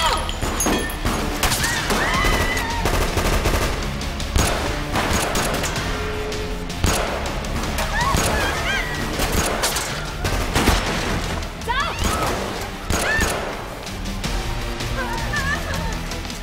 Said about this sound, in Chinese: 隐形战队剧情进入高潮，寻晚压轴嘅枪战场面火花四溅